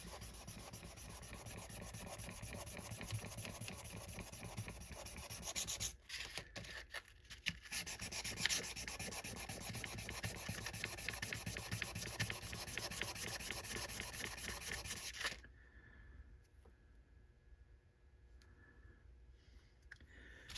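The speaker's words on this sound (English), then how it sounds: "So we're going to come over here to our sandpaper." A 1911 pistol front sight is rubbed back and forth on sandpaper, a close, continuous gritty scraping with a rapid stroke rhythm that runs for about fifteen seconds, briefly pauses near six seconds, then stops, leaving quiet room tone.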